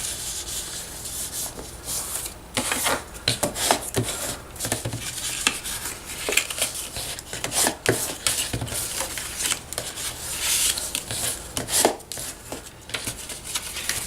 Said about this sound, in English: let's fold and burnish this